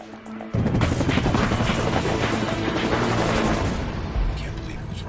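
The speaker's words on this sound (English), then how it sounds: "Let's get the chopper ready." A helicopter roars close and loud, a dense continuous beating rumble that bursts in abruptly and holds steady for several seconds.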